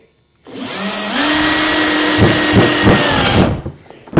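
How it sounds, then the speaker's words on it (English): A battery-operated power drill whirs up and runs steadily for about three seconds, with a few load bumps partway through, then spins down, close and loud. "you need a good battery operated drill"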